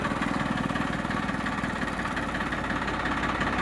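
A Sonalika DI 740 double-clutch tractor idles steadily, its diesel engine a continuous, even rumble with a fast regular pulse that stays close and unchanging throughout, with no voices.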